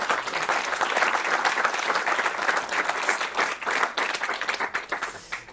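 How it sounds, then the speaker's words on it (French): An audience at a French gesticulated lecture claps in a dense, sustained round of applause that fills the room, then thins out toward the end. "On applaudit Aurore, mesdames et messieurs."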